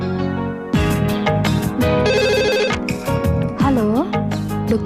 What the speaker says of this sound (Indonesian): Dokter Pramono, ada telepon?